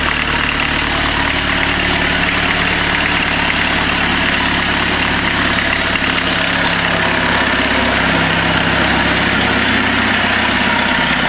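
An old VW diesel engine, started by being pulled on a chain, runs at a loud, steady idle with a rough low rumble and mechanical clatter throughout, close by and with no talking.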